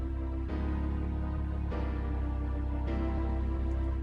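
Sustained chords on a keyboard changing every second or so, soft and steady, with rich jazzy harmonies ringing into each other.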